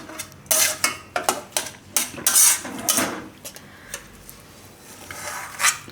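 Hot sukhdi, a mix of jowar flour and jaggery, is scraped from a pan into a metal plate, giving a run of sharp clinks and knocks with soft scraping between them, close and clear, then quieter rubbing.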